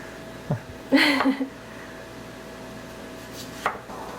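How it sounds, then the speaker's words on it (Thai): A few sharp knife chops on a cutting board while preparing mashed potatoes, a brief cluster of quick thuds followed later by one more isolated chop, with quiet background between. "อันนี้หั่นใกล้จะเสร็จแล้วนะคะ"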